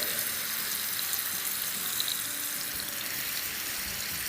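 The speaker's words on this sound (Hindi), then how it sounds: "तो अब इसमें हम मैरिनेटेड हमारी चिकन डाल देंगे। सारा मसाला भी डाल देंगे," Marinated chicken and spices go into a pan with softened onions, making a loud, continuous hiss of frying that holds steady without a break.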